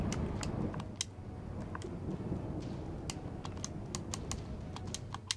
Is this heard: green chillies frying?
no